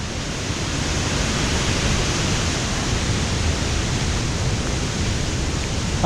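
Artificial waterfall inside a cave, a steady, dense roar of falling water that holds constant and loud throughout, with no voices.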